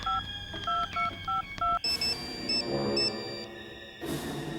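A quick run of telephone keypad tones beeps in an uneven rhythm, followed by a short electronic line tone, clear and close.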